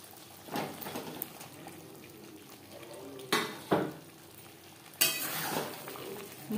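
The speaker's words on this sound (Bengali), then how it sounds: "পটল বেশ ভালো করে মিক্স করে দেব।" Pointed gourd (potol) is mixed with cooked-down spices in a pan for a vegetarian dorma. It brings intermittent scraping and stirring strokes, with a few sharper bursts over a low background sizzle. The stirring is nearby, with no speech.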